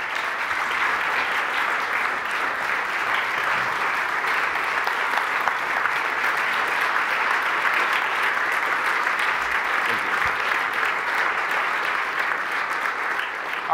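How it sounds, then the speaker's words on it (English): An audience at a conference talk gives a steady, dense round of applause that holds at an even level throughout, with no voices over it. "Round of applause, please."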